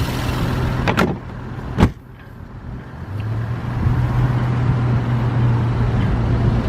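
On a 2018 Audi SQ5 3.0T Quattro, a couple of sharp thuds as the hood or door is shut, followed by the steady low hum of the idling V6 turbo engine.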